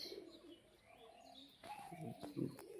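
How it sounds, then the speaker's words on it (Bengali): Four female pigeons offered for sale coo faintly in low, throaty bursts, quiet and somewhat distant at first, then fuller cooing swells near the end amid light rustling. "এখানে চারটেই মাদি পায়রা রয়েছে"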